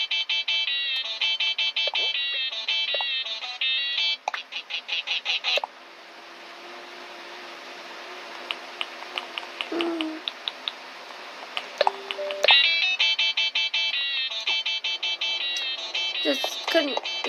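Chirpy, tinkling Animal Crossing background music plays inside a player's house, bright synth melodies looping with clicky percussion, fairly quiet, with a softer, sparser stretch in the middle.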